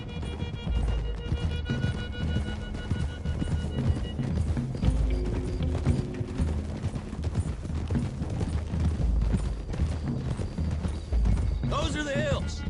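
Several horses gallop along a hillside trail in Red Dead Redemption 2, their hooves pounding in a dense, fast clip-clop rhythm that runs continuously over rumbling ambient sound, with a whinny near the end and voices talking.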